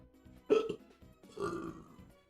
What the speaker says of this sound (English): Oh, I got all the burps.